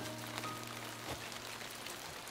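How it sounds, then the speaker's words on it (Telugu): Rain falls in a faint, steady patter over a low electrical hum, quiet and continuous with one brief louder thud near the middle. "వర్షం పడుతుంది."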